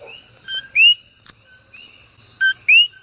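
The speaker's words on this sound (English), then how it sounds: "And it's the animal of Puerto Rico. It's called a coqui" Coqui frogs calling at night in Puerto Rico: a few sharp rising chirps, single and paired, over a steady hum of insects.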